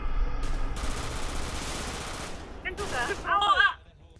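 Bursts of rapid gunfire with a dense, crackling texture in GTA V roleplay, followed by a few sharper electronic blips before the sound drops off.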